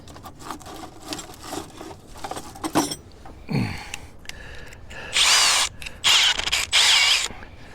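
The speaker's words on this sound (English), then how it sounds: "I've got an 1/8 drill bit in here that I might pre-drill it" Short bursts of a power drill with an 1/8-inch bit pre-drilling a hole, stopping and starting a few times, with handling clatter between runs.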